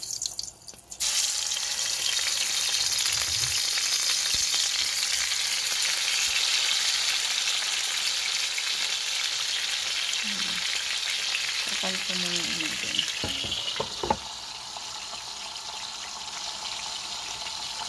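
Chicken fries in a pan with a loud, steady sizzle and crackle throughout, plus a few brief clinks and taps of cookware near the end, with no speech.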